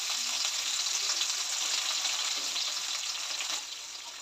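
Dried anchovies (dilis) frying in a little oil in a blackened wok, a dense continuous crackling sizzle, close and loud, easing slightly toward the end with no talk.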